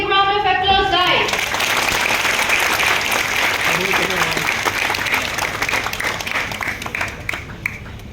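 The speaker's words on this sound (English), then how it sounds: "Give them a big round of applause" A large audience applauds loudly and steadily, the clapping holding strong before easing slightly at the end; a voice briefly sounds at the start.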